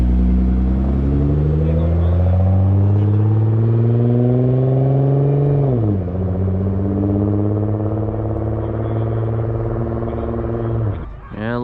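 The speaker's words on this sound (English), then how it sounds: "got the Supra leaving. Got the RS6 and the GTR leaving." A Toyota Supra, Audi RS6 and Nissan GTR pull away from a car meet at a shop grand opening, their engines loud and close, revving and rising in pitch through the gears. One exhaust note drops and climbs again, and a sharp rev blips at the end.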